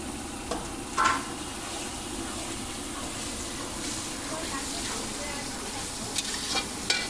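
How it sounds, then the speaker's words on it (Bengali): Ginger, green chili and tomato paste masala fries steadily in a pan for mutton kosha, a continuous soft sizzle with a few brief scraping stirs, close and moderately quiet, no talking. "মশলা ভালোভাবে কষে গেছে"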